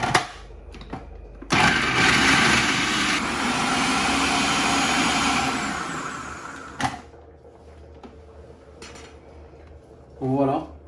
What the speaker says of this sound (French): Et on va commencer à mixer.